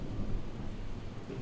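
In Project Zomboid, a storm rolls on with deep, sustained thunder and a steady hiss of rain, loud and continuous throughout with no speech.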